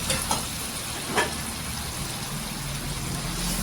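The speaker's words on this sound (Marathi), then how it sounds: "आता या भाजीमध्ये पाणी ओतायला आहे ना मी गरम करून घेतलेलं आहे, ते पाणी ओतायचं" Hot water hitting a pan of sizzling kidney bean curry gives a steady, fairly loud hiss and bubbling froth, with a couple of brief splashy bursts near the start.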